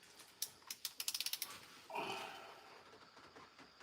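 A torque wrench ratchets in a quick run of crisp clicks on head gasket bolts, brought up to 50 foot-pounds in the second tightening sequence, followed by a longer grinding creak as the bolt is pulled tight, close and fairly quiet.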